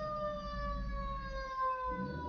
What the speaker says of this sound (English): Where's this fucking ambulance going by again?